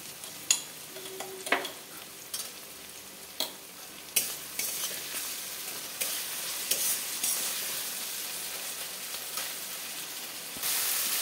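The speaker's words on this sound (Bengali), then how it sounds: "আমাদের আদা রসুন বাটা হয়ে গেছে ভাজাটা" Ginger-garlic paste and softened tomato fry softly in a pan, giving a low, steady sizzle broken by several sharp scrapes and clinks of a spoon stirring, heard close with no talking.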